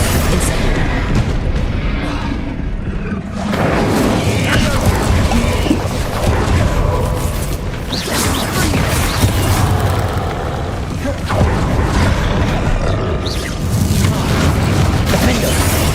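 Bombarda and Incendio spell blasts in the Hogwarts Legacy video game: loud, dense booms and crashing impacts that follow one another with little pause through the whole stretch.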